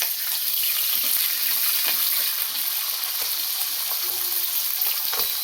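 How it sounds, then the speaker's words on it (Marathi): Green peas fry in a sautéed pan mixture for pasta, making a loud, even crackling sizzle with scattered stirring clicks and scrapes throughout. "परतलेल्या मिश्रणामध्ये आपल्याला घालायचं आहे हा हिरवा वाटाणा एक फ्राय करून घेऊया"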